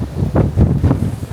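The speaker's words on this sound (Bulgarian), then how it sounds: "Вятъра направо събори всичко тук." Strong gusts buffet the microphone in heavy, roaring bursts, with a deep rumble and no voices.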